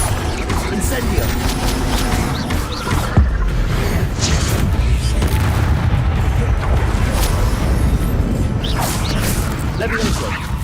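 Incendio fire spell cast in Hogwarts Legacy, a continuous loud whooshing, crackling burst amid mechanical clanks and booms of combat, with a voice faintly underneath.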